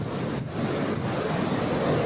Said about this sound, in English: A lot of big waves, a lot of beautiful water.